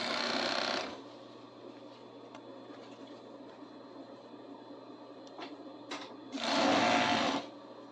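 Two loud bursts of serger (overlock sewing machine) stitching fabric pieces, one at the start and another near the end, with quieter handling sounds in between and no talk.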